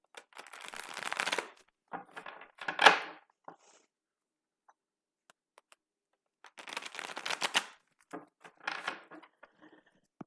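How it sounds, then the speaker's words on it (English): Cards being riffled and shuffled close up, two quick whirring bursts each followed by softer tapping and squaring of the deck. "We'll give it one more quick shuffle."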